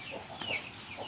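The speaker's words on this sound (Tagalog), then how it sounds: "Dami yung manok ah." Chickens cluck and chatter nearby in a steady stream of short, soft calls over an outdoor background.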